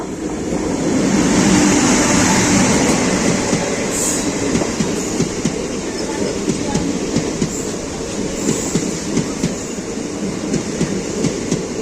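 A Mayiladuthurai–Mannargudi passenger train passes at a crossing, heard from on board a moving express train as a loud, continuous rumble with a rhythmic clickety-clack of wheels over rail joints throughout.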